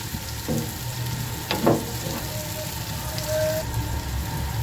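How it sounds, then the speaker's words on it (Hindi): Sliced onion fries lightly in a pan for a tomato and onion chutney, giving a steady close sizzle with a few brief stirring scrapes. "प्याज को हम हल्का सा फ्राई करेंगे"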